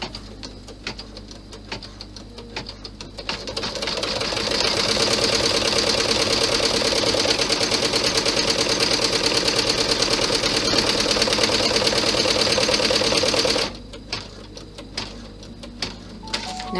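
Sewing machine stitching a bag, starting with a few faint clicks before a steady, fast mechanical whir runs for about ten seconds and then stops abruptly.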